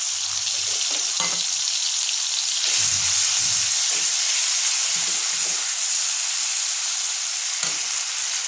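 Ground spice paste fries in hot oil for an eggplant dish, a continuous loud sizzle and hiss with occasional stirring scrapes breaking through, close up and with no voices.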